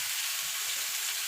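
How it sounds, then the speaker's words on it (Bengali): Pumpkin pieces frying in a pan for a bitter gourd and pumpkin dish, a constant close sizzle with soft stirring scrapes now and then, no one speaking. "এবার এটাকে আমি ভাজা ভাজা করে নেবো।"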